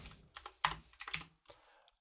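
Computer keyboard keys being typed in short irregular bursts of clicks, close and fairly quiet, with no talking, while someone writes C# code.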